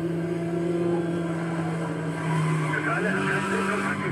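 Car drifting with tire squeal and a sustained engine drone in Need for Speed Most Wanted, continuous and loud, with the engine tone shifting partway through.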